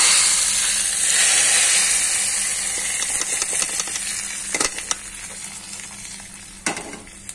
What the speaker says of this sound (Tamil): இந்த தாளிப்பு எடுத்து அந்த குழம்புல கொட்ட வேண்டியதான்